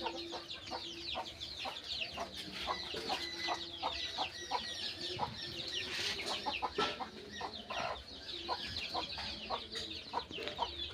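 Desi hens and their chicks cluck steadily in a coop, with a constant layer of high, thin chick peeping and scattered louder hen clucks throughout; no talk.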